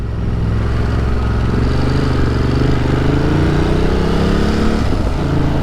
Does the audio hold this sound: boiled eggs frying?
no